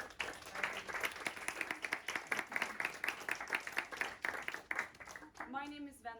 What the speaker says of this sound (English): I think you deserve a big round of applause to start with